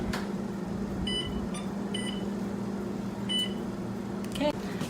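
Kitchen oven timer beeping while baking, a few short high electronic beeps at a time, repeating over a steady hum of a running appliance and room noise.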